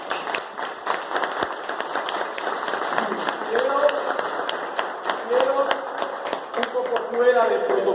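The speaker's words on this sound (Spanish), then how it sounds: "un segundo aplauso para esta ponencia" An audience claps for a lecture in a hall, with steady, dense applause from many hands throughout. Voices are also heard in the room.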